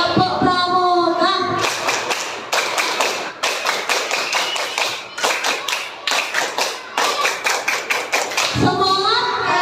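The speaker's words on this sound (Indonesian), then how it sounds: "sekarang coba kita tepuk pramuka" A class of children performs the Scout clap, a rapid rhythmic pattern of hand claps and taps in quick bursts with short pauses between, loud and close in a classroom, with a voice briefly at the start and end.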